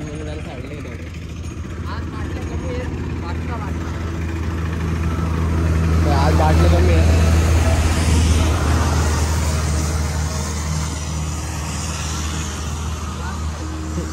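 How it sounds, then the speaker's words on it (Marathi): Road traffic passes along a highway during a walking pilgrimage from Vasind to Shirdi, a steady low engine rumble that swells in the middle as a heavier vehicle goes by, heard under close conversation. "traffic traffic"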